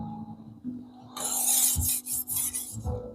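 A blade is sharpened on a 400 grit stone, a quiet low scrape that swells into repeated rhythmic rasping strokes, close and fairly loud.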